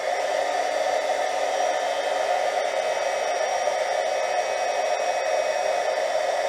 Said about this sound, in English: I'm going to take my heat gun, so it's going to have a little noise